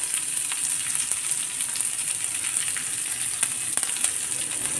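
Onion, green chillies, chopped ginger and curry leaves sizzle steadily as they sauté in a pan. The frying crackles continuously up close and is broken by a few light stirring ticks, with no talking.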